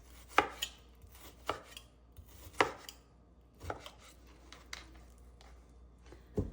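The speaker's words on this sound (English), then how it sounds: "Put your knife through the middle of that sliced piece and then slice them into small cubes." A knife cutting sliced beef into small cubes on a board for a homemade Indian beef curry: about half a dozen crisp, separate chops at an uneven pace, close and clear, with no talking.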